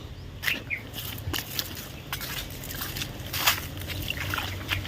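Water trickles and sloshes steadily along a channel in a village in Botad, with scattered splashy bursts and knocks breaking through the continuous outdoor flow.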